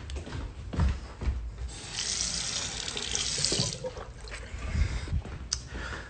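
Kitchen or bathroom tap running into a sink for a glass of water, a continuous close splashing flow with some rubbing and handling noises, no voices over it.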